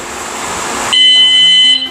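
A loud electronic bicycle alarm horn sounds close by, switching from a harsh noisy blare to a steady high-pitched beep that holds for about a second, signaling it has switched off.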